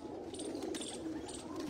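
Pigeons coo steadily in a loft in Chak Jhumra, Faisalabad, a low continuous murmur of overlapping calls close by, with faint chirps drifting above.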